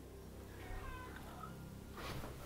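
A cat meowing inside an old Scottish castle jail, one drawn-out faint meow followed by a second brief call, over a low rumbling background.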